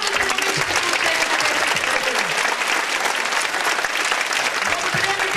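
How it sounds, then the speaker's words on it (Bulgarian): A kindergarten audience applauds the children after their performance, with loud, dense clapping from a large crowd continuing without a break and a few voices faintly mixed in. "Аплодисменти за златните момичета и момчета."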